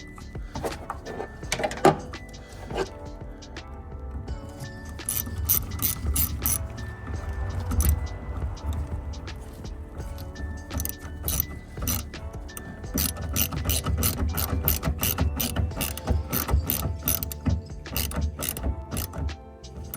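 A ratchet clicks in quick bursts while tightening the fuel line fitting on a 1988 BMW, with metallic handling sounds nearby and a low hum underneath.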